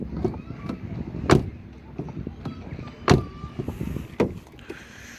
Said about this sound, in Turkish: Bu şekilde bir kapı açma sesimiz mevcut. Ses oldukça tok arkadaşlar.